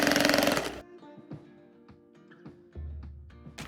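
Sewing machine understitching a pleat seam for a center back inverted box pleat, with a short loud run of stitching followed by quieter clicks and knocks, then a brief restart at the end.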